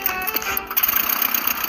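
The engine of a very cheap small plane runs with a buzzy, rapid rattling drone like a lawn mower engine, steady and fairly close throughout with no talk.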